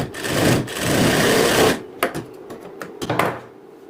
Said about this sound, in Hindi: तो मैं ये टक्स की सिलाई आपको लगा के बता देती हूँ।